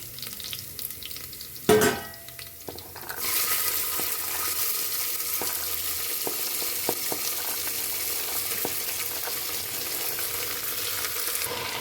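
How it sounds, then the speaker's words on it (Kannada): Mixed vegetables for a vegetable curry go into a hot pan with a sharp burst, then a steady, close sizzle of frying continues with occasional stirring clicks. "ವೆಜಿಟೇಬಲ್ನೆಲ್ಲ ಒಂದ್ಸತಿ ಚೆನ್ನಾಗಿ ಫ್ರೈ ಮಾಡಬೇಕು."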